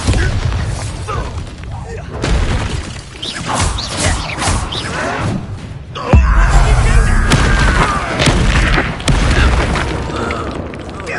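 Blasting spell explosions from the Hogwarts Legacy video game burst out in a loud, chaotic run of booms, crashes and shattering impacts, under excited voices calling out.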